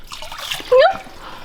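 Gasoline spills and pours briefly while reviving a supercharged 670cc IRS buggy, a short close liquid gush with a quick splashy rise over faint background noise.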